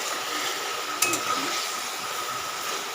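Boiled eggplant and potato being stirred and sautéed in a pan, a soft steady sizzle with one brief clink of a utensil against the pan, no voices.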